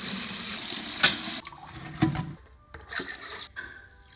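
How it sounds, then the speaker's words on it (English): Tap water running into a bucket for a rust-removal electrolysis setup, a steady splashing fill with a few sharp knocks and shifts as the stream changes, fairly close and moderately loud with no talk. "So now I'm just getting some water to fill up my bucket."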